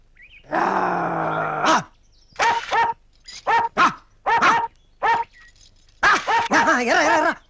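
A dog gives a series of loud, close barks and yelping, groaning cries in uneven bursts, with short gaps between them and no talk over them.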